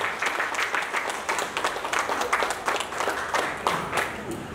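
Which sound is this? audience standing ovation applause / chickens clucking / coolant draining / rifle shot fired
audience standing ovation applause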